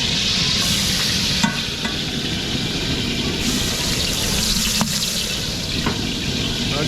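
Onion sautéing in a pan for special lomi, a steady broad sizzle running throughout with a few brief clinks and stirs, loud and close, with no talk over it.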